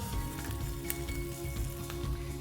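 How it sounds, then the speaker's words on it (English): Asparagus and other vegetables sauté in a hot pan for a frittata, a steady, close sizzle running evenly throughout with no talking. "I'm going to saute these vegetables to make sure that they're nice and crisp"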